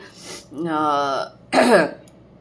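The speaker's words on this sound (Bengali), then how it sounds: "এই খুকখুকে কাশিটা এটা চট করে আমার যেতে চায় না" A single short cough is followed by a harsh throat clearing, close and fairly loud, with a breathy vocal quality.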